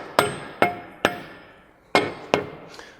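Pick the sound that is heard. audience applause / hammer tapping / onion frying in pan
hammer tapping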